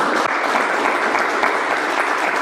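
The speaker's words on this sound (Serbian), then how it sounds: "Svaka čast, aplauz" Sustained applause from an audience at a coaching panel masterclass, dense steady clapping filling the room without break, fairly loud and close.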